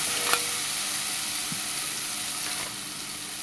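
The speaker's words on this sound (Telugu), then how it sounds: "ఒక స్పూన్ అల్లవెల్లుల్లి పేస్ట్ వేసి పచ్చివాసన పోయేంత వరకు ఫ్రై చేసుకోండి" Ginger garlic paste frying in hot oil for mutton curry, a loud continuous sizzle with faint stirring scrapes, close up and without talk.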